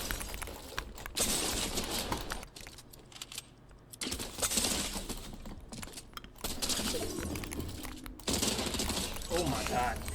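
SMG gunfire in Fortnite, loud rapid bursts coming in several stretches separated by short quieter pauses, with sharp cracking and breaking sounds mixed in.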